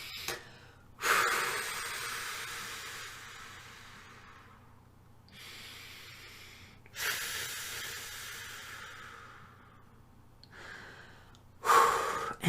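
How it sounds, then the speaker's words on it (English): Three deep cleansing breaths are drawn in and let out slowly, each a long airy whoosh that fades gradually, up close and quiet, with no speech. "please take 3 deep cleansing breaths"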